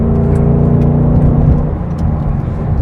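A 2021 Ford Mustang Mach 1 V8 engine drones steadily while the car drives, a loud close rumble that eases slightly near the end, with no talking.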